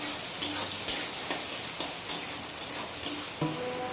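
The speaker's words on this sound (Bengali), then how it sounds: "পেঁয়াজগুলি একটু ভাজা হয়ে আসলে তারপর অন্য মশলাগুলি দিয়ে দেবো" Salted onions fry in a pan for chicken kosha, a steady close sizzle broken by light regular taps and scrapes of a stirring spoon, about two per second.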